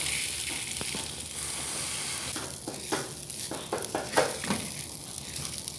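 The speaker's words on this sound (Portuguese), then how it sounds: "eu vou fritar ali o alho, né, no óleo, e depois colocar o arroz para refogar" Garlic and rice frying in oil in a pan, a steady close sizzle with a few sharp crackles and stirring scrapes rising toward the end.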